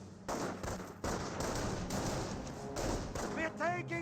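Gunfire in the World War II strategy game Company of Heroes, with rifle squads and a machine gun firing: several dull, thudding bursts of shots at irregular intervals, followed by a voice at the end.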